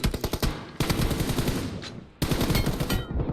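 Rapid bursts of automatic gunfire in the video game PUBG Mobile rattle loudly in three quick volleys separated by brief pauses.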